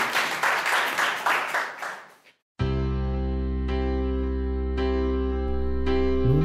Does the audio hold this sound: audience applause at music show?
yes